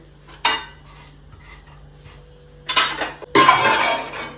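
Steel dishes, tiffin boxes and pots clatter and clink while being washed in a home kitchen, with a sharp clank near the start and two louder bursts of rattling metal toward the end, close by.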